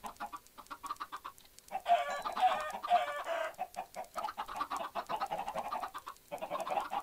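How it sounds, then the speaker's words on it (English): Chickens in the Minecraft modpack RealmsCraft cluck and squawk in rapid, overlapping bursts, close and fairly loud, continuing throughout with no speech. "let's feed all these chickens here."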